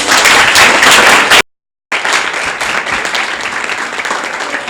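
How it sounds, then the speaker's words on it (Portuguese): A round of applause, loud and dense clapping from a crowd, briefly cut off by a moment of silence before resuming and slowly thinning. "uma salva de palmas para vocês"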